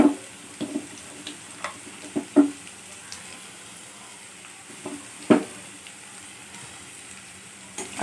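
Grated onion drops into a pan of fried pointed gourd and potatoes, setting off a low steady sizzle with scattered sharp pops and crackles as the pieces are stirred, and no voices.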